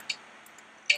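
Skype notification chimes during a Minecraft Build Battle session: two short, bright tones about a second apart, faint against quiet background and alone, with no talking.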